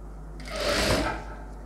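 A sewing machine runs a short stitching pass on a blouse sleeve, swelling and fading over about a second, close and steady with no talk.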